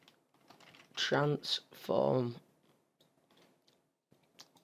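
Keys clatter on a computer keyboard while a nearby voice speaks, then a few faint, light keystrokes continue alone after the speech.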